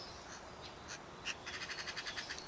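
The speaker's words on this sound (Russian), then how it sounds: "А вот там сорока." A magpie chatters faintly from a distance outdoors in a garden, giving a rapid series of harsh, evenly spaced calls after a few scattered chirps, over steady background hiss.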